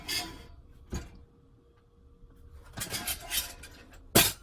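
Metal clanks and scrapes as a Pathfinder metal bush pot is set down and fitted into a large twig stove, a few sharp knocks with rattling between, close by.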